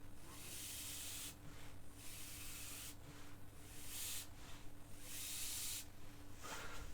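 Spray can applying a light primer coat to a model, delivering several soft hissing bursts of a second or two each, separated by brief pauses, faint and close over a low steady hum.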